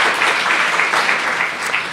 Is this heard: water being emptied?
no